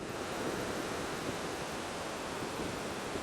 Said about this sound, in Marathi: पाण्याचा खळखळाट